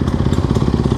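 A Honda CRF450R motocross bike idling just after its electric start, with a loud, close, rapid thumping engine pulse for about a second.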